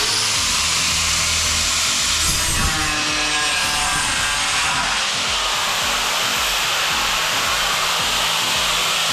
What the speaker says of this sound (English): I'll show you how I cut aluminium.